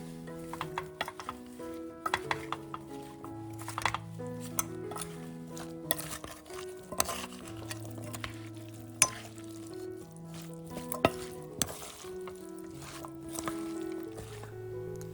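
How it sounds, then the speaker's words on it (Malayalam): Beef for a roast is stirred with crushed pepper and salt in a pot, giving soft scraping and clinking spoon taps beneath louder background music. "1 ടേബിൾ സ്പൂൺ കുരുമുളക് ചതച്ചത്, 1 ടീസ്പൂൺ ഉപ്പ് എന്നിവ ചേർത്തിട്ട് നന്നായി ഇളക്കുക"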